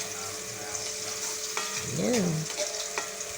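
Garlic sautés in a pan with a continuous frying hiss and a few light utensil clicks, while a voice briefly speaks over it.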